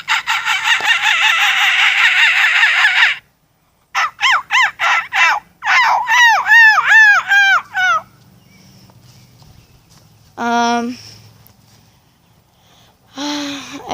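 A human voice imitates a pheasant flushing, giving a run of rapid, harsh, rhythmic squawking calls in bursts, then a few separate shorter cries after a pause.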